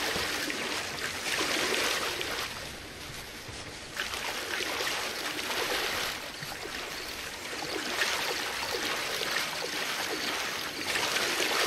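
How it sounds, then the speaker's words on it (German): Loud flowing water in a swamp area, a dense continuous rushing hiss that swells and eases in slow waves, close and steady, with no talk over it. "das Wasser ist auch immer so laut hier"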